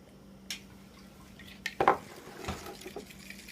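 A spoon stirs a yeast doughnut dough mixture in a bowl to dissolve it, with a few scattered scrapes and clinks against the side over quiet background hum.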